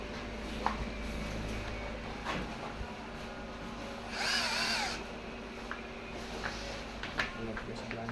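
A power drill drives bolts into a Yokisa massage machine during reassembly, a close buzzing whir with a brief louder high burst midway, under steady talking.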